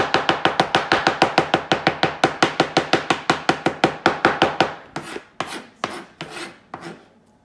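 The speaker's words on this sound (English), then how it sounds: "I'm just gonna finely chop it more." Garlic for garlic bread is finely chopped with a knife on a board in quick, even, loud taps, about five per second. The run slows into a handful of scattered, heavier chops at the end.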